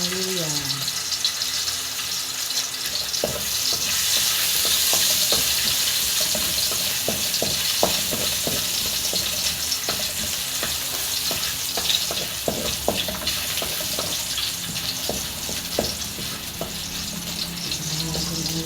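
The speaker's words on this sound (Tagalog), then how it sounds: "So, kapag mainit na, ilagay na natin ang luya." Ginger frying in a hot pan while cooking chicken tinola, steady loud sizzling with scattered stirring clicks and scrapes throughout, the frying continuous from start to finish.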